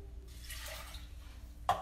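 Water pours into a pot for oatmeal, a brief soft splashing stream heard close up, ending with a small clunk.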